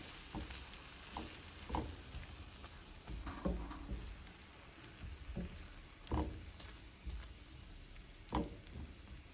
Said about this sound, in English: go ahead and add your sauce, the one we blended, and stir it.